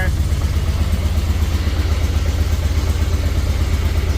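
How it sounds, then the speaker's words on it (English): A 2003 Harley-Davidson Road King motorcycle idles steadily up close, a continuous low rumbling throb that holds even throughout, with no talk over it. "Seems like we got a good idle now too."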